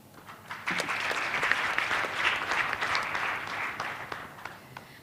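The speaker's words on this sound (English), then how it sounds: "let's give a round of applause again to the panelists in the house" Conference audience at a mental health and addiction plenary session applauding the panelists: sustained clapping that swells quickly, stays full through the middle and thins toward the end.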